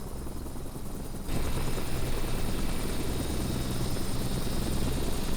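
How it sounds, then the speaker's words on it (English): A helicopter returning from an oil rig in FSX thrums with a steady, loud rotor and engine drone that swells into a fuller roar after the first second. "There's one of our helicopters returning from the rig right now."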